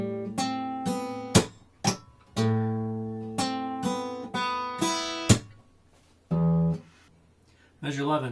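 Slow run through measure 10 of a song on guitar: plucked and slapped notes, some held and ringing, broken by short percussive hits and brief pauses, close and distinct, with no voices over it.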